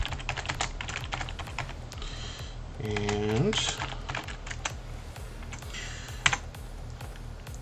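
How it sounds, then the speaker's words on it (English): Quick, uneven keystrokes clatter on a computer keyboard close to the mic. A short vocal sound comes in partway through, and a louder key clack lands near the end. "I think I figured out why I have so much trouble typing."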